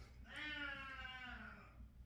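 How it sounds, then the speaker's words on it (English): A female cat in heat lets out one drawn-out, wavering yowl lasting about a second and a half, heard fairly clearly over a low background. "If you hear a cat screaming in the background,"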